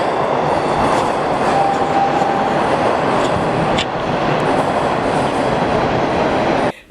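A TTC subway train passes close by on the tracks with a loud, sustained roar and a thin wheel squeal. The roar cuts off abruptly at the end.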